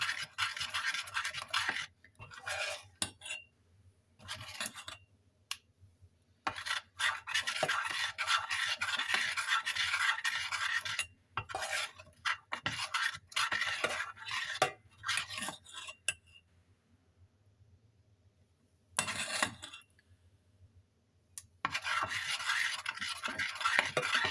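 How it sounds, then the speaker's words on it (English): A utensil scrapes and stirs in a pan as brownie batter of chocolate and butter melts over low heat, with repeated rasping strokes broken by short pauses and a longer gap near the end, close and moderately loud. "Melt on low heat and keep on stirring until all is combined and melted"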